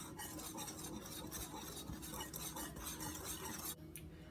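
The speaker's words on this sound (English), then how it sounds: "I'm going to whisk the dry ingredients together until it's well incorporated" Dry flour, baking soda and sugar whisked together in a bowl for buttermilk pancakes, giving a steady, close scraping and rustling stir with faint clinks of the whisk that stops abruptly near the end.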